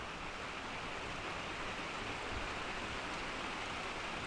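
Rain falls steadily outside an abandoned greenhouse, a faint, even wash of hiss with no distinct drops or other sounds.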